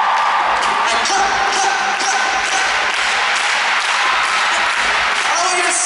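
A large concert crowd at a Munich stadium show claps and cheers continuously, a dense, loud wash of hands and voices with faint rhythmic accents running throughout.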